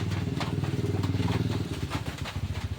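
A small 12-volt DC motor powered through an MT3608 boost converter runs steadily up close, giving off a rapid, even buzzing clatter with no talk over it.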